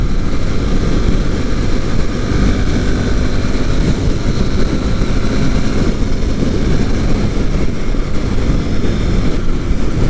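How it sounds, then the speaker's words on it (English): Husqvarna Svartpilen 701 with its big single-cylinder engine runs steadily, a loud continuous low rumble with slight vibration throughout, no voices. "It runs pretty smooth. It's got a little bit of vibration, but this thing's a big giant one-cylinder motor."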